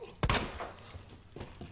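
Gunfire in the Resident Evil 2 Remake video game: a sharp, loud shot followed by a fainter second report about a second later, set against quiet game ambience.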